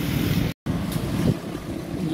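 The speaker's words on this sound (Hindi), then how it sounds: "ये देखें कितनी हवा चल रही है तेज" Strong, gusty wind blowing outdoors in Karachi just before a rainstorm, a steady close rushing roar with a brief cut-out partway through.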